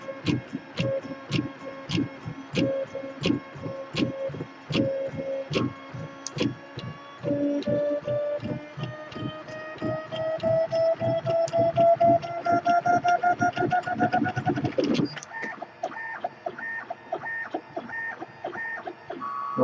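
A 3D printer runs a 40mm calibration cube at high speed, its stepper motors chirping in rapid rhythmic bursts with rising whining tones, the pattern tightening and then switching to a steadier buzzing pulse near the end.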